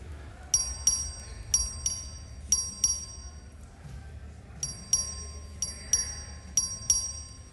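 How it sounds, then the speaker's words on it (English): The vote bell rings in the Texas House of Representatives chamber, a bright electric bell sounding in short repeated bursts, about a dozen rings in two runs separated by a brief pause, over a soft roomy murmur. "The clerk will ring the bell."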